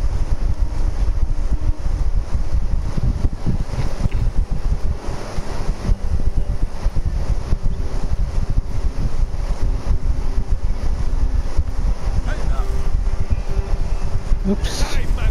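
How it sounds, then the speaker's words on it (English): Electric fan running at home during Assassin's Creed Origins gameplay, a loud steady rushing roar throughout, with faint game sounds and muffled talking underneath. "so I turned my fan on."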